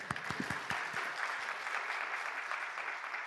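Applause from a gathered congregation at an autumn church revival service, a few sharp claps at first building into steady clapping that carries on evenly throughout.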